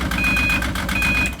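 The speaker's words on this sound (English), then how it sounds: "That's in reverse. The damn beep." A 2006 Yamaha RS Viking Pro snowmobile, under repair for a grinding gearbox, sounds two long, steady reverse warning beeps over its loud, close idling engine.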